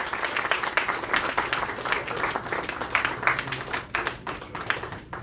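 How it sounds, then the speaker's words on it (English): Sustained audience applause at a National Startup Day programme in Goa, a dense wash of many hands clapping at steady loudness throughout, with faint crowd noise underneath. "Please get the applause going."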